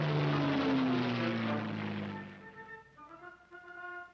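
Propeller airplanes of a modernizing Ethiopian air force in Addis Ababa, a loud droning engine pass with pitch sliding downward as the aircraft moves away, leaving fainter tonal engine hum.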